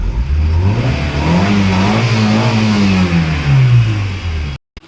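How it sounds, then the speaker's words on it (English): A 2012 Gypsy 4x4 with a Euro 3 petrol MPFI engine is revved from idle. The pitch climbs to a steady high hold, then sinks back down, loud and close, before cutting off abruptly. "I'm just going to rev the engine and show you."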